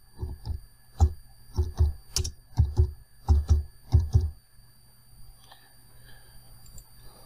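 Keystrokes on a computer keyboard as a chart title is typed, a quick irregular run of crisp clicks over a faint hum, then quiet.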